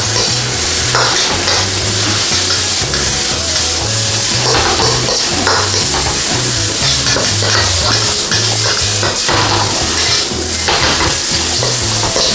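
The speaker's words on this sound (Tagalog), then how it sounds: "And then, stir po natin siya again ng another 1 minute." Shrimp and yakisoba-style Indomie noodles stir-fried in a pan: a steady, loud sizzle with repeated scraping and clinking of the utensil against the pan throughout, and no talking.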